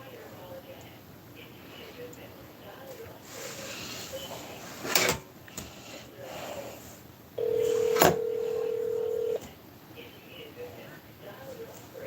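A phone call is placed: faint room noise and a few clicks, then a sharp dial tone and a long steady ringback tone, with soft speech murmuring around it.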